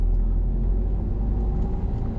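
A car accelerating during a driving lesson, a steady low engine rumble heard from inside the cabin, close and continuous without speech.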